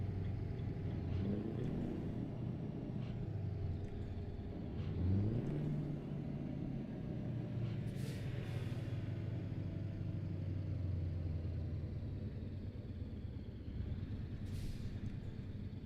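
A simulated truck engine in Euro Truck Simulator 2 drones low and steady while driving, a continuous rumble with slight pitch shifts and a few faint hissy bursts, no talking.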